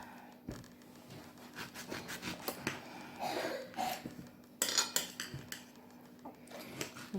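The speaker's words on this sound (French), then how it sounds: "On va couper la mangue" A knife slices through a ripe store-bought mango to free the pit, giving close, soft rasping and scraping strokes with a few sharper clicks against the fruit and board, no talking.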